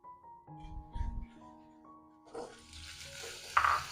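Cut potatoes sauté in hot oil in a kadai for a side dish, giving a soft, intermittent sizzle and a few stirring clatters that grow slightly louder toward the end.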